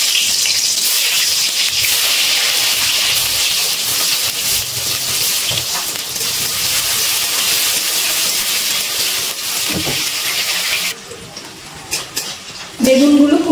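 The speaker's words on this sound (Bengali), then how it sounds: "এবার কেটে রাখা বেগুনগুলো ভেজে নেব।" Salted, turmeric-coated eggplant slices frying in hot oil give a steady loud sizzle and hiss, with a few clinks of utensils and a quieter stretch near the end.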